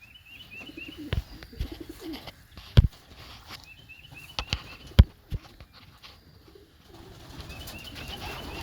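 Pigeons in a loft coo softly in repeated phrases, with loud wing flaps and thumps breaking in now and then, all close by and without speech.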